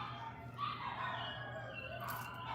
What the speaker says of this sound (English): they only bark like that when someone's coming